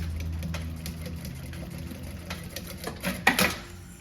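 Sewing machine running short seams with backstitching on a tote bag with a printed synthetic panel, a faint, uneven mechanical whir with small clicks and handling noises near the end.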